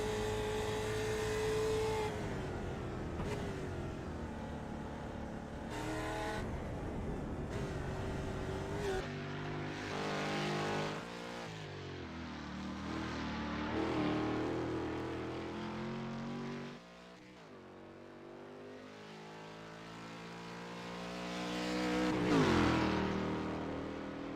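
Race car engine at Sandown, revving hard and dropping through gear changes as it brakes and accelerates into the final corner, loud and close with pitch sweeps and a surge near the end.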